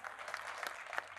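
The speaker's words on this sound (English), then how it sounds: "A big round of applause for the team." Faint, distant clapping for a cricket team after a GEPL match between Chennai Wolves and Delhi Sharks, a brief soft patter with a couple of sharper claps.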